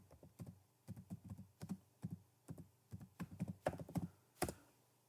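Keys tapping on a computer keyboard while a command is entered into a command prompt, a steady run of soft, close clicks in small bursts, each stroke distinct and unaccompanied by talk.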